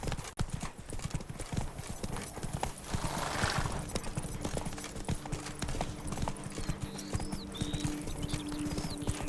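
Roach the horse gallops in The Witcher 3, hooves pounding in a fast, steady clip-clop rhythm close by, with a whinny and rushing outdoor ambience.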